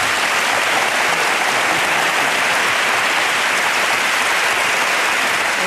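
Applause at a Cádiz carnival awards ceremony, a loud, dense and unbroken roar of many hands clapping that holds steady throughout with no voices above it.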